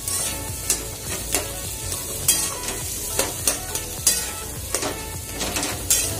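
A spoon stirs a potato vada pav mixture with coriander in a hot pan, making a steady run of close scraping strokes over a soft sizzle, with no one speaking.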